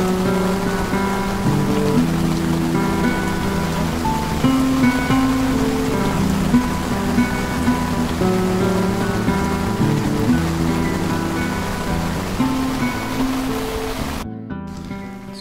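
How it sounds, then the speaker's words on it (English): Heavy rain pouring down during a carp fishing session, a dense, loud, constant patter and hiss close by, steady for the whole stretch before cutting off abruptly near the end. "it's not stopped raining for an hour and a half"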